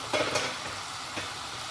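Food fries in a pan with a dense, steady sizzle, a few brief bursts of louder crackle rising over the constant hiss, close by and without speech.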